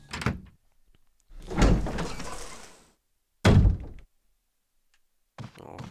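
A heavy shield door in Resident Evil HD Remaster thunks and grinds open in loud bursts, with a short clunk at the start, a longer scraping slide, a sharp slam and a final thud, separated by silence.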